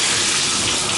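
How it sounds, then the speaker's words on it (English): A bathroom shower running on hot water only, a steady, loud hiss of spraying water close by with no voices. "And the shower is fantastic, and it's draining nicely"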